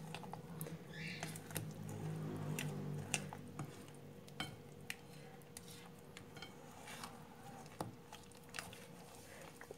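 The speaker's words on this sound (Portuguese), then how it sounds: "Aqui a gente vai mexendo bem." A spoon scrapes and taps around a bowl while stirring cornmeal cake batter made with cream, producing faint irregular clinks and soft wet patter in a quiet kitchen.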